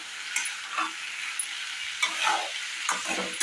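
Potatoes frying plainly in oil for Bengali-style aloo bhaja, a continuous bright sizzle with occasional stirring scrapes and pops, close up with no voices.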